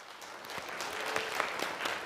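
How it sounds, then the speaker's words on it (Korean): Audience applause at a parent-education conference in Gyeonggi, welcoming a kindergarten vice principal to the stage; steady, dense clapping from a room full of people fills the whole two seconds at an even level. "큰 박수로 환영해 주시기 바랍니다."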